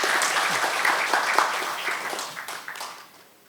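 Applause from a seated audience at a science and technology forum panel in a national assembly hall, a brisk burst of many hands clapping that gradually thins and fades out.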